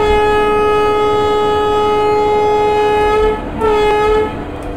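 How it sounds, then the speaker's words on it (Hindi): A loud, sustained train horn sounds from the Deccan Express as it departs Karjat station, a long steady blast that briefly breaks and resumes before fading, over constant rumbling engine noise. "तो चलिए फिर अभी हम लोग ब्रेक्स को रिलीज कर देते हैं और हॉर्न बजाकर यहाँ से डिपार्ट करते हैं।"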